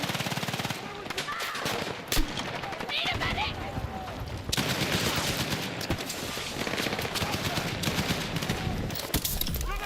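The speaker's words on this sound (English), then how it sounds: "Oh, they shooting. They shooting." Dense video game gunfire, rapid machine-gun bursts and rattling volleys that carry on almost nonstop, loud and close, with players talking over the shooting.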